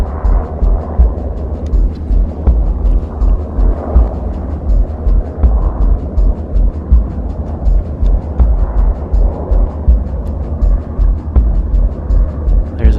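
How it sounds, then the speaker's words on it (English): Low-flying military helicopters pass overhead at night near an abandoned desert factory, giving a steady, rhythmic low thudding of rotor beats over a constant drone that stays loud and close throughout. "might be a military helicopter and they're flying really low."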